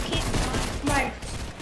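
A brief, quiet burst of rapid submachine gun fire in Fortnite Chapter 2 Season 1 gameplay, a short rattling volley.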